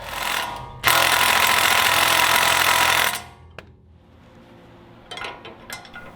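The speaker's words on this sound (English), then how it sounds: "17mm socket, we're going to take these two bolts loose, which will remove the caliper from the spindle" A 17mm socket on an impact tool loosening the brake caliper bolts on a Toyota front spindle: a loud, continuous rattling burst lasting about two seconds, followed by quieter clicks and short rattles.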